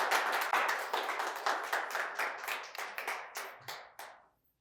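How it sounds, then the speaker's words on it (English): Applause from a lecture audience welcoming a guest speaker, dense at first and then thinning into separate claps that trail off to silence within a few seconds. "Help me to welcome with some applause, Daniel Gascon."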